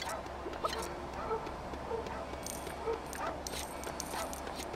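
A small dog in the video game Lego City Undercover yips and whimpers in short bursts over a steady low hum, fairly quiet and somewhat distant in a busy background.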